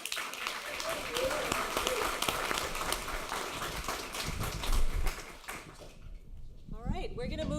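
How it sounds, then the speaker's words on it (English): Audience applause at a panel on game industry careers, dense steady clapping that fades out near the end as a voice starts to speak. "Now, one last round of applause,"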